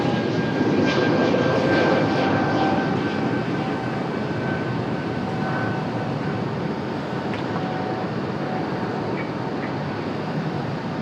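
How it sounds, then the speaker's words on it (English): A Delta Airbus A220 jet departs Raleigh-Durham International, its steady, broadband engine roar sustained and loud throughout, with a faint whine riding above the rumble. "Nice departure for that Delta A220."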